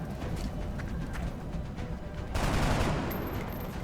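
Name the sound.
gunshots in XCOM Enemy Within video game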